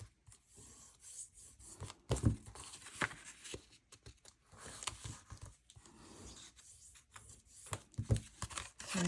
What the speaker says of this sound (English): we want to fold all of our score lines